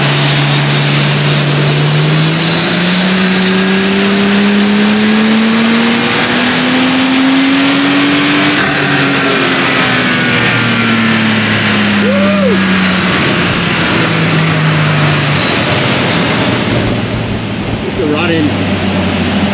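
A VL turbo car engine on a dyno drones loudly under a roaring wash of noise, its pitch climbing slowly over several seconds, then falling and settling, with turbo whine and brief voices mixed in.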